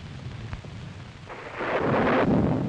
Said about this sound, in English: You probably noticed there's a bad storm going on.